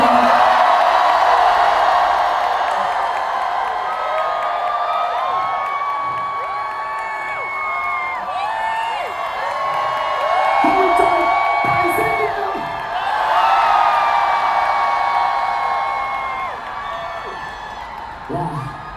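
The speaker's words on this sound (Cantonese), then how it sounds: "俾我哋聽下，即係俾我聽下你哋嘅熱情歡呼聲得唔得？" A large concert audience at the Hong Kong Coliseum cheers, whoops and screams loudly and without a break, the roar swelling again partway through.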